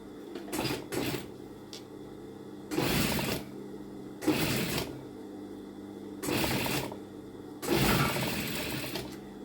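A sewing machine stitches a fabric seam in five or six short bursts of whirring stitching separated by brief pauses, close and clear with no talk.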